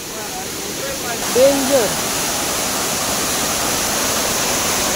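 Water pours down from above in a forest in Konkan's Ratnagiri area, a steady, even rushing roar throughout, with a brief voice cutting in early on.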